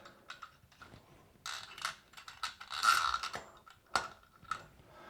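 A standard Phillips screwdriver turns screws into the mounting clips for a Toto Washlet toilet seat, producing close, irregular ratcheting clicks and small metallic ticks in short bursts.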